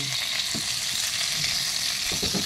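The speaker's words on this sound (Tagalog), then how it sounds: "Ilikarin natin ang ating chicken." Chicken hamonado is stirred in a frying pan, giving a steady broad sizzle of frying with soft scraping and stirring knocks scattered through, close and continuous, with no talking.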